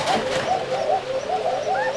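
A female Koka pigeon, a thin-voiced fancy breed kept on a pigeon farm, gives a series of soft, repeated coos, close by over a quiet background.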